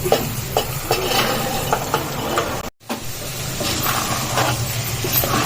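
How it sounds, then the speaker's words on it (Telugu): Chickpeas are stirred into green chili paste in a pan, giving a close, continuous scraping and stirring under a soft sizzle, with a brief silent break midway before the stirring resumes. "అన్నీ వేసి కలిపేసుకొని కొంచెం సిమ్లో ఒక 10 నిమిషాలు ఉంచుకొని అప్పుడప్పుడు కలుపుతూ ఉండాలి"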